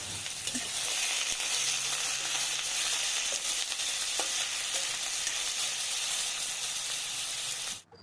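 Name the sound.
frying potatoes in pan with spices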